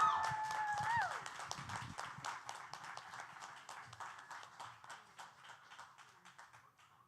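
An audience at a live show claps and cheers to welcome the host, a steady patter of many hands that slowly thins out, with voices mixed in.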